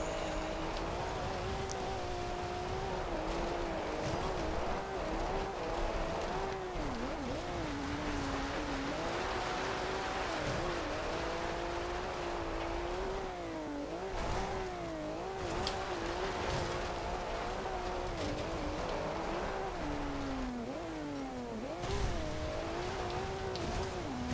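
A 2012 Porsche 911 GT2 RS fitted with off-road tyres in the racing game Forza Horizon 2, its engine droning steadily and loudly throughout with repeated rises and dips in pitch as it revs and shifts.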